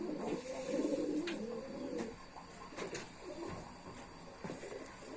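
A pigeon of the long-flying Los breed gives a low, throaty coo while being held in the hand, clearest at the start, then quieter handling noises and faint background sounds follow.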